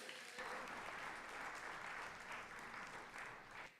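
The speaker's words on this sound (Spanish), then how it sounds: "Denle un aplauso al Señor ahí." A church congregation applauds during a Papiamentu-language worship service, a dense, sustained wash of clapping from many hands that fills the room and fades slightly at the end.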